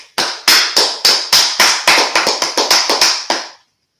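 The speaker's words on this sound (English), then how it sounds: "Let's clap it up for class." Audience clapping at a Monday night history class, with a run of about fourteen sharp, evenly spaced claps at a steady rhythm, close and loud, with no talking.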